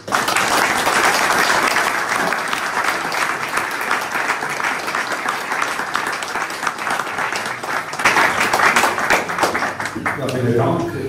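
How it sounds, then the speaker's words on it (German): A conference audience gives warm, sustained applause for a speaker, a dense, loud clatter of many hands that swells again late before fading as a voice begins to speak. "Begrüßen Sie weiterhin den herzlichen Applaus."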